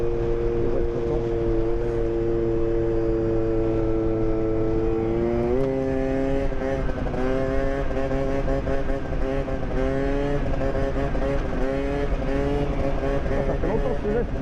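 Scooter or motorbike engine held at a steady drone, then revving higher and climbing in pitch midway as the rider lifts into a wheelie, loud and close with stepped rises.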